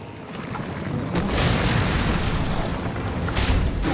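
Deep booming explosions and rumbling blasts from grenade fire in Resident Evil 7 on PC, loud and sustained with sharper bursts standing out.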